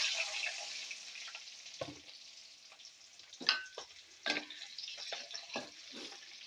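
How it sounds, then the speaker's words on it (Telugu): Chopped onions go into hot oil in a kadai for a mutton curry, giving a continuous soft sizzle with scattered sharper crackles and stirring clatters, fairly quiet and with no voice over it. "ఆయిల్ అయితే మనకు హీట్ వచ్చింది ఫ్రెండ్స్ ఇప్పుడు నేను కట్ చేసిన ఉల్లిపాయలు వేసుకుంటున్నాను"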